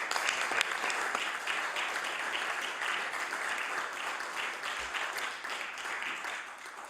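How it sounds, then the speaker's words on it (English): Members of the House of Assembly applaud during a legislative sitting: a steady, sustained round of clapping from many hands in the chamber, easing slightly toward the end. "I ask the members to give them a warm round of applause this morning"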